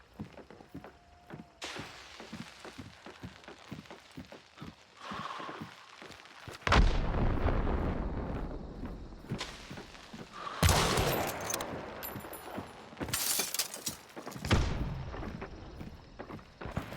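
Gunfire in the video game Hunt: Showdown, scattered sharp shots and bursts, some distant and some loud and close, separated by quieter stretches with footsteps.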